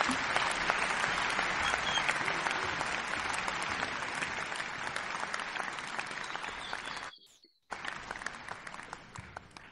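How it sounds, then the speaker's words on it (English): A conference audience at a conservation side event applauds at the close of the session: a sustained, dense patter of many hands that breaks off briefly near the end, then resumes at full strength. "A big round of applause to everyone."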